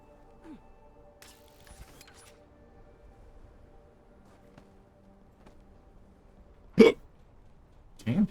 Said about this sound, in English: Damn hiccups today, man.